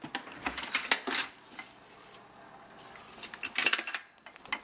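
An aluminum Maratac AAA flashlight set into a dishwasher's silverware basket, with close, bright metallic clinks and rattles in several quick bursts and a quieter pause between them.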